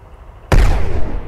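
A tank cannon fires in the Brick Rigs video game, one sudden loud boom after quiet engine hum, with a rumbling tail that lingers.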